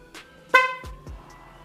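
A motorcycle horn gives a single short, bright honk when its button is pressed, with a couple of faint clicks around it in an otherwise quiet space.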